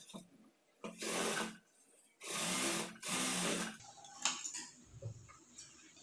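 A sewing machine stitches folded blouse cloth in three loud bursts of about a second each, separated by short pauses, followed by softer handling clatter and rustling.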